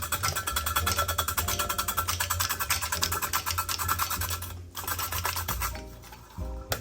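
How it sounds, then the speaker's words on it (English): A Saladmaster cone slicer cuts vegetable into slices, giving a steady rapid rasping, scraping churn that runs continuously, briefly pauses and then resumes, close and fairly loud with no talking. "this time I'm gonna cut it into slices"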